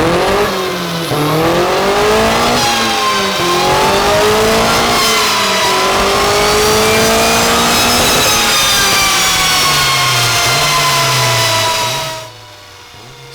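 A turbocharged Ford Pinto engine in a car tuned with a max ECU revs loudly and steadily, the pitch climbing and falling through several sweeps before cutting off abruptly near the end.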